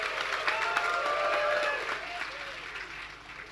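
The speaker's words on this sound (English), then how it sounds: "let's give everyone one massive round of applause and cheer" A graduation ceremony audience bursts into loud, sustained applause and cheering in a large hall, clapping dense at first and tapering off.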